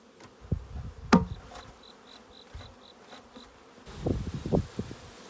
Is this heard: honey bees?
yes